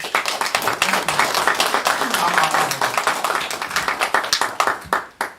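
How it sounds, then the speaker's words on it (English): A crowd at a community meet-and-greet claps in a burst of applause, dense and sustained, then thinning out into scattered claps before stopping. "Let's give him a round of applause."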